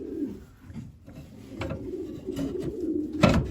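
Racing pigeons coo in a loft, with soft repeated low throaty calls and some shuffling and wing movement nearby.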